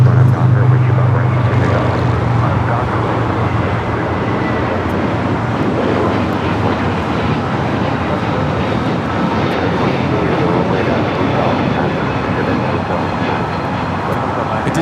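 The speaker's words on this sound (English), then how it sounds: "an A321 Neo headed out to Miami, Florida, flight 811" An Airbus A321neo jet on flight 811 to Miami takes off at LAX, a loud, steady broadband engine roar sustained throughout, with a low hum early on.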